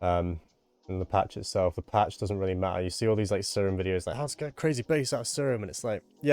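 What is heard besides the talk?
No distinct noise like a dog, phone or traffic.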